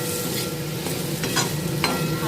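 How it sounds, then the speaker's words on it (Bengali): Cut potatoes fry lightly in oil, a loud continuous sizzle close to the pan, with a few sharp spatula scrapes as they are stirred. "এখানে আলুগুলো ভাজা ভাজা হয়ে যাচ্ছে"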